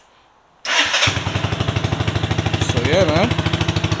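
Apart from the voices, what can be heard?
motorcycle engine starting and running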